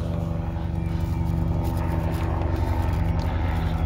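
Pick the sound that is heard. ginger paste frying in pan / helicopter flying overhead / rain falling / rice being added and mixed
helicopter flying overhead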